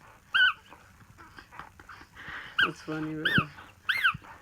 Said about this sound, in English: It's still squeaking.